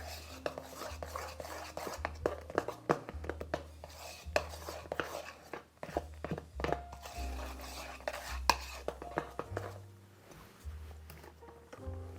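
A spoon stirs a thick cream cheese fudge mixture with chocolate in a bowl, giving soft scraping and clinking against the dish in an irregular rhythm, quiet and close.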